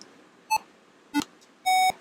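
Three separate electronic beeps from a retro paddle video game, short tonal blips spaced about half a second apart, the last one longer and louder, close and alone.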